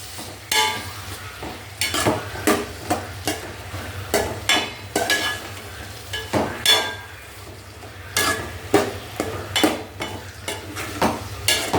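A spoon stirs brinjal fry with curry leaves in hot oil in a pan on low heat. It makes a steady series of close, sharp scraping strokes against the pan over a soft sizzle.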